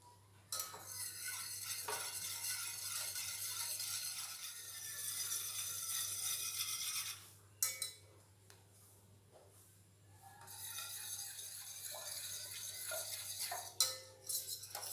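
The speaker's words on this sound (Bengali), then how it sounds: "এবারে অল্প অল্প পাউডার দুধ দেব আর মেশাবো" Powdered milk is stirred into lightly warmed water in a pot, making a long run of continuous scraping and swishing, a brief pause, then more stirring with a couple of clinks, close and quiet, with no speech.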